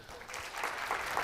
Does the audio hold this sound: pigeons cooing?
no